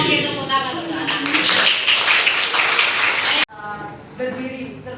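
A room of people in a school gathering applauds for a child, loud busy clapping that runs for a few seconds and cuts off abruptly, followed by quieter voices.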